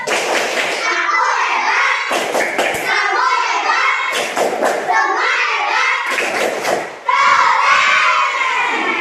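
A classroom of children performs a rhythmic clapping cheer, loud group chanting and shouting with bursts of hand claps in repeated phrases, close and energetic.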